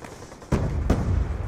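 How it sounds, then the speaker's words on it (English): Grenades explode in a first-person shooter game, two sharp, loud booms about half a second apart, each followed by a rumbling tail. "They're gonna start throwing nades."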